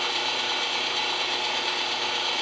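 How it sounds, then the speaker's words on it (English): A meat grinder pushes sausage meat through a coarse die for a second pass, giving a steady, close, continuous mechanical grinding and ratcheting whir that holds even throughout with no talking. "we're gonna go back through the grinder one more time on the coarse die setting"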